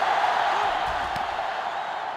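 A stadium crowd roars steadily through a video game American college football match, Maryland against Texas, the broad cheering sustained at a loud, even level with a faint whoop or two rising out of it.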